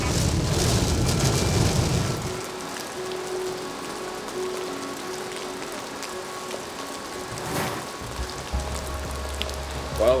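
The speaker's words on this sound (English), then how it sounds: "We had a pop-up shower, rain event" A sudden pop-up rain shower hisses loudly at the start, then settles into a quieter, steady patter of drops with a faint low hum underneath and no talking.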